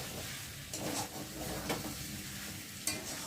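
Chicken sautéing in a pan for a thin summer curry, a steady close sizzle with stirring scrapes throughout and a few louder clatters, no talking.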